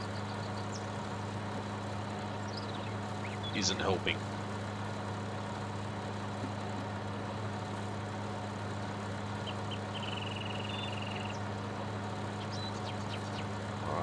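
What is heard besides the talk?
250 horsepower tractor engine plowing, from farming video game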